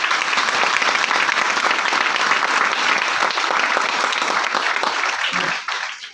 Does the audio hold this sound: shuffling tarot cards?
no